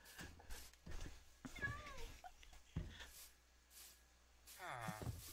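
A Minecraft cat meows a few short times in the game, fairly faint and mixed with brief bursts of a person talking and laughing nearby.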